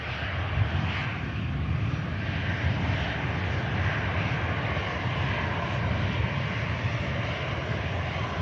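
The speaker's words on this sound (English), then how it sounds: "the beautiful Virgin Atlantic 330 is on the taxi" A Virgin Atlantic Airbus A330 airliner taxis at Manchester Airport, its engines giving a steady, broad roar at moderate distance that holds without a break throughout.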